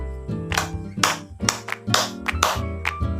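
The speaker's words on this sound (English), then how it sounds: "Let's give 5 claps for everyone." Class claps together in a classroom, a series of sharp, evenly spaced claps ringing out over sustained background music.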